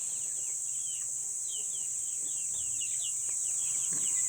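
Free-range chickens cluck and chirp softly in scattered bursts, faint and somewhat distant, under a constant high-pitched insect drone.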